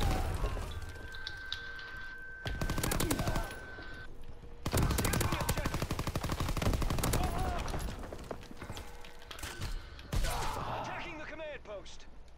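Rapid bursts of PPSh submachine gun fire in a video game, loud repeated volleys with short pauses between them, layered over busy in-game background noise.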